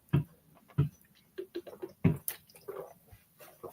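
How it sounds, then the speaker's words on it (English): Someone drinks water in a series of close, distinct gulps and wet swallows with short gaps between them, heard alone with no talking. "I'm drinking water right now."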